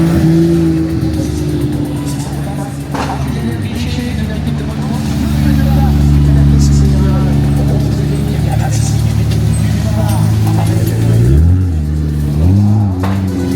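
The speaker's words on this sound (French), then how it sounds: "Ici on a les GT4 qui rentrent là." GT4 race cars pulling in at a major GT circuit race in France, loud engines droning and shifting pitch, with revving rising near the end, while someone talks over the noise.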